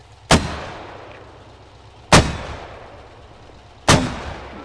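Mortar in the video game SQUAD firing, three loud, close, booming shots evenly spaced about two seconds apart, each with a decaying rumble tail and no speech.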